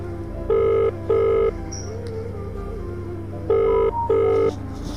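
A phone rings out while placing a call to a mother, with two pairs of loud, even electronic ring bursts separated by a pause over a steady low hum.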